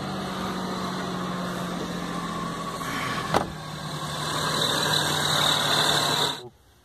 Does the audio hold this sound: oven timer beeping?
no